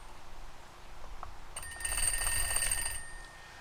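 A Polish LP10 switchboard rings a field phone on line one: a loud, near electric bell rattles continuously for about a second and a half, then stops, with no talk during the ring.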